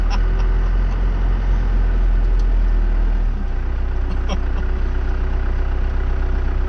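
A 4x4 truck with a swapped-in 5-speed manual transmission runs loud and close with a steady low engine drone that drops in pitch partway through as the gears shift down, with no talking.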